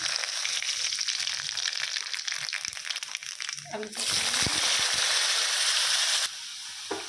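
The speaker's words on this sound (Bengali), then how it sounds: "তেলটা হয়ে গেল, কালি জিরা ফোড়ন দিয়ে দিলাম" Nigella seeds tempering in hot oil at home, a steady crackling sizzle that surges louder midway with hissing spatter and scraping, then drops back near the end; voices may murmur faintly underneath.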